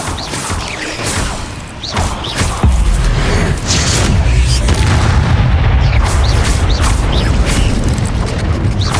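A spell blast from the Hogwarts Legacy video game bursts in with a heavy booming impact, followed by a loud sustained rumbling roar of magical effects.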